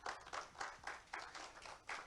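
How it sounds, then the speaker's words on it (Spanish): A church congregation claps together in a steady, rhythmic beat, with bursts of applause repeating evenly for a couple of seconds in a reverberant room. "Denle un aplauso al Señor"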